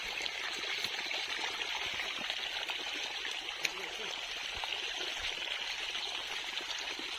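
Water flows steadily into a sugarcane field for irrigation, a continuous, even trickling stream heard close up at moderate level with no pauses.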